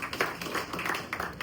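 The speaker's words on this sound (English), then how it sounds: "Let's give her a round of applause." A room of people at a gin and rye launch gives a brief round of applause for the designer, a dense patter of hand claps at moderate volume.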